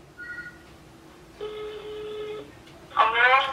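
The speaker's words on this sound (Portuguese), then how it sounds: "Poxa, gente, vamos atender esse telefone?" Telephone line tones sound during an outgoing call: a short beep, a longer steady ringback tone, then a burst of warbling electronic tones as the line connects.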